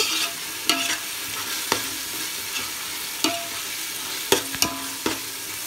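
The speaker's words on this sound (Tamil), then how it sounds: "மசாலா நல்லா வதங்கி வந்துடுச்சு." Biryani masala with chili powder sautés in a pot, a low steady sizzle broken by several sharp spoon knocks and scrapes against the pot's sides, with no speech.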